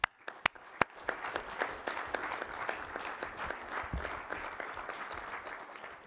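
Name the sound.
council members applauding the vote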